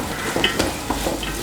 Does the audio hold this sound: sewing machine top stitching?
no